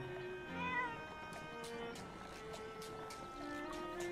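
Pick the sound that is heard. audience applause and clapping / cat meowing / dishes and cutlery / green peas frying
cat meowing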